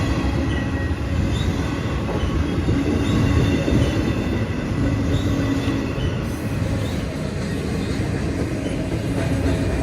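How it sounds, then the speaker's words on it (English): A freight train rolls past near Evansville, Indiana, a steady loud rumble of wheels on rail with faint clacking and high squeal running the whole time, no voices. "as the train passes by"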